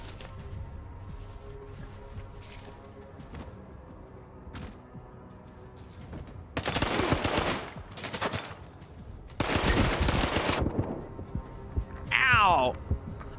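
Pistol-caliber gunfire in S.T.A.L.K.E.R. 2, heard as two loud bursts of rapid shots over low game ambience, followed by a brief sharp burst near the end.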